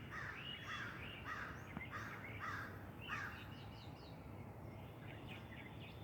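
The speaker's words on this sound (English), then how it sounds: "Wondering how many crows there are out there making all those calling sounds." Several crows cawing outdoors at a distance, a series of harsh repeated calls in irregular bursts over a faint background hiss, fairly quiet overall.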